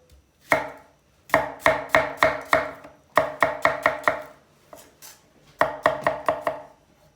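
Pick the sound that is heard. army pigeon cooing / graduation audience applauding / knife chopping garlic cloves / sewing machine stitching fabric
knife chopping garlic cloves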